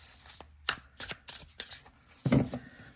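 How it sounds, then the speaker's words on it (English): Close, crisp bursts of tarot cards with thick cardstock being shuffled, several quick riffles and slides in an uneven rhythm, ending with a fuller shuffle. "This is like ASMR for shuffling. Listen to that."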